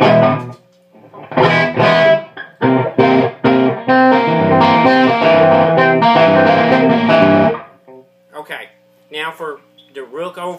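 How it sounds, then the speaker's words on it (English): Electric guitar played straight through an amp with the overdrive pedal bypassed, a fairly clean riff of punchy chords and runs, loud and close, ending in sparse short stabs. "this is the sound of the amp with the pedal completely bypassed"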